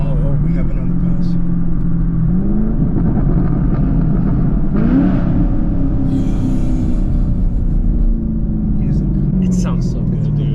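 A 6th-generation Chevrolet Camaro SS V8 rumbles loudly while driving through an underpass, with a steady deep engine drone and gear shifts, echoing slightly off the walls; people talk inside the car over the engine.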